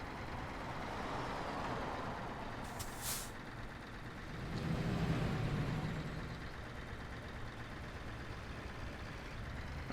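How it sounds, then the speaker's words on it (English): Heavy truck in Euro Truck Simulator 2, a steady low engine drone with road rumble throughout, a brief sharp hiss like an air brake near three seconds and a swell of louder rumble around five seconds. "How's the balance between the mic and the truck noise?"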